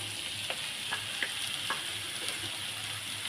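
Chopped potato and corn fry in a hot pan for corn pav bhaji, a steady sizzle broken by several distinct scraping stirs of a spoon, close and fairly quiet with no talking.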